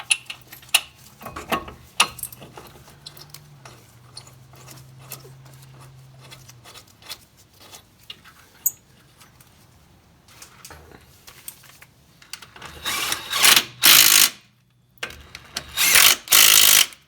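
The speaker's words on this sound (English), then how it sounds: "Go ahead and get your bracket bolts back in" Brake bracket bolts go back into a 2013 Hyundai Elantra, with a ratchet giving faint, scattered clicks at first, then loud, close bursts of rapid ratcheting near the end.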